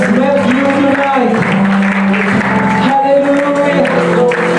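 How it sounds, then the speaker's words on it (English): A church congregation claps in praise during a worship service, steady sustained applause running throughout under a loud voice speaking over it. "Give him a clap of praise for he is worthy"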